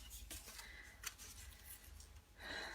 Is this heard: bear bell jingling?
no